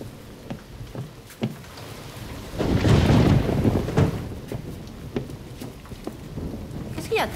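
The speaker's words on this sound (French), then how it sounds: "il pleut vraiment fort dehors" Heavy rain falling outside with a low rumble of thunder swelling in the middle, a steady wash of downpour with scattered patters and knocks.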